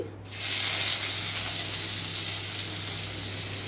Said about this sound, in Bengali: তেলটা গরম হয়ে গেছে, দিয়ে দিচ্ছি পেঁয়াজ কুচি